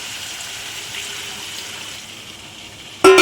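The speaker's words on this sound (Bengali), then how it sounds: "তো আমি এবারে জল দিয়ে দিচ্ছি" Water pours steadily into a pot of mutton curry, a continuous hissing flow that drops slightly in level before a sharp clatter at the end.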